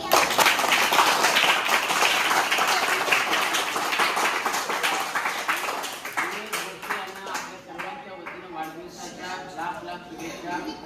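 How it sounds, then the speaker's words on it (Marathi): A crowd claps loudly for a local singer's birthday celebration in Titwala, dense applause at first that thins and fades into scattered claps and murmuring voices after about six seconds. "दादांना आपण शुभेच्छा देऊया, जोरदार टाळ्या वाजवून."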